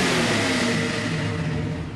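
A 1969 Chevrolet Camaro engine revs loudly and close by in a garage, a steady, full-bodied roar that eases off slightly toward the end.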